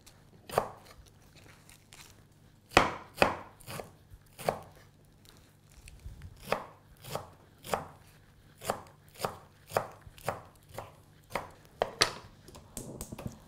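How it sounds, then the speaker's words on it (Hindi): A knife roughly chops bathua, mustard and fenugreek leaves on a cutting board in irregular, sharp strokes, over a dozen close thuds with short pauses between, no voices. "अब ये जो पत्ते हैं, बथुआ, सरसों और मेथी, इनको हम रफली चॉप कर लेंगे"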